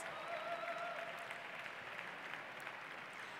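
An audience claps at a university graduation ceremony, a continuous, moderately distant wash of applause that stays even and fades slightly toward the end.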